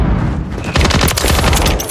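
Rapid gunfire in Call of Duty Modern Warfare 3 multiplayer, a loud, close string of overlapping shots and booming impacts filling the whole two seconds without pause.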